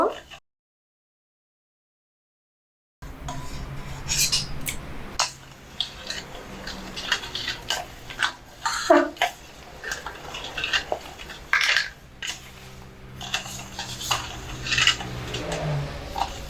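Milk is whisked with sugar in a bowl, starting after a few seconds of silence with light, irregular clinks and taps of a utensil against the bowl, fairly close and soft.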